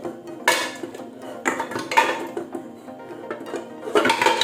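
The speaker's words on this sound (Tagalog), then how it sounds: "Lalagay na natin yung ating pinakuluan kaninang buto-buto." Boiled beef ribs dropped into a pressure cooker, giving several loud clanking and thudding metal knocks at irregular intervals, close by with no talking.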